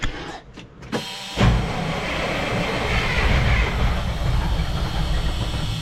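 Mack truck diesel engine cranked with a jumper pack on its 24-volt system: a few brief starter bursts, then a sustained loud rumbling churn that continues close by, with no talk.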